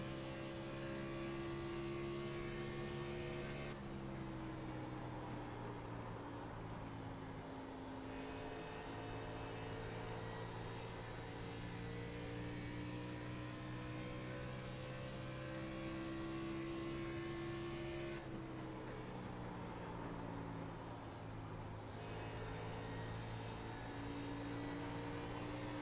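A Chevy Camaro NASCAR Xfinity race car laps Nashville Superspeedway, its engine droning steadily at a distance with pitch rising and falling as it shifts and circles the track, faint and unbroken, with no talking.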